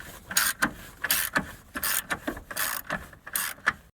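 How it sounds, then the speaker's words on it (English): A ratchet with an extension unscrews the long 13mm screw holding the battery holder in a 2007-2015 Jeep Compass, giving close, repeated bursts of clicking and scraping in an uneven rhythm, with no talk. "The best way is just to use the extension and pretty much unscrew it."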